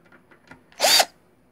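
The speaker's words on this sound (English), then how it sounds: "anybody giving me any crap about using this drill to take the screws out?" A power drill whirs in one short, loud burst of about a quarter second while backing screws out of a hard drive, with faint clicks and handling noises just before it.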